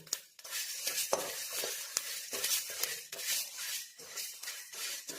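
Green chillies, dry red chillies, curry leaves and garlic fry in a pan and are stirred, a hissing sizzle with irregular scraping and rustling close by, no talk.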